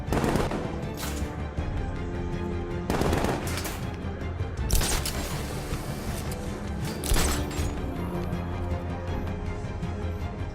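Gunfire in Batman: Arkham Knight as an enemy is shot down: bursts of rapid automatic shots spaced a few seconds apart over a steady low game hum, loud and close, no talking.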